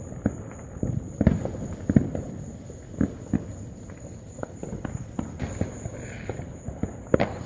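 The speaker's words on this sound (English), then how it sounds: "So I decided to come out front of my house to video fireworks going off all over the neighborhood." Fireworks and firecrackers pop across a residential neighborhood on the Fourth of July, with scattered sharp bangs near and far, irregularly spaced over a steady outdoor background and a faint high electrical whine.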